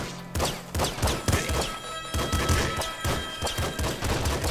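Rapid bursts of gunfire from the top-down shooter game Nuclear Throne, loud repeated volleys of shots and impacts layered with game effects, with no talk over them.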